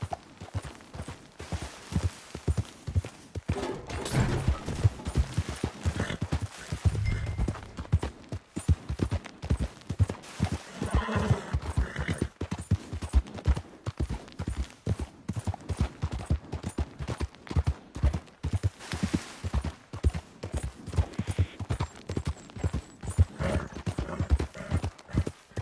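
A horse gallops in Red Dead Redemption 2, with rapid rhythmic hoofbeats that run continuously and close, with faint background game sounds and a short spoken urging over the top.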